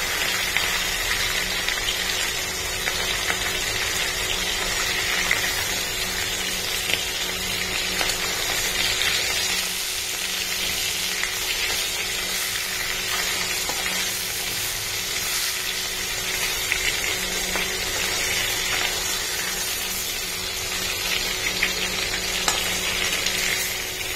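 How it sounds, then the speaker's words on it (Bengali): Chopped onion fries in hot oil as a tempering for a home-cooked Bengali dish, a loud, dense, continuous sizzle that holds steady throughout, with faint stirring beneath. "এই পেঁয়াজটা ফোড়নে দিয়ে এটা পেঁয়াজ রসুন দিয়ে করবো"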